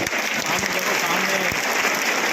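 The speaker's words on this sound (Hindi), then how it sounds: "एक बार सब अपने लिए जोरदार ताली बजाएं" Dense, steady applause from a large audience of teachers at a teachers' union session in Rajasthan fills the space, loud and continuous without pause.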